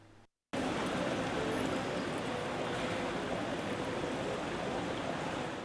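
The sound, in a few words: water running in a public fountain in Padua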